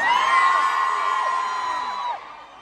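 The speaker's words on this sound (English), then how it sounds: "You can scream louder than the people at the front" A large concert crowd at a Westlife show screams and cheers loudly, with high sustained shrieks and whoops from many voices fading slightly at the end.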